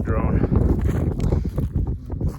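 Wind gusts buffet the microphone on a desert hilltop at an archaeological site, a loud, rumbling rush that rises and falls throughout.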